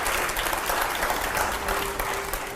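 Loud, dense applause from a large crowd, steady clapping throughout with no pauses.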